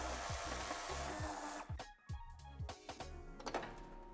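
Two screws being backed out to free the heat shield on a 2006–2009 Audi A4 (8H) Cabriolet during a tow hitch fitting: close scraping and rubbing of metal tools, then a few sharp clicks and clinks, with no talking.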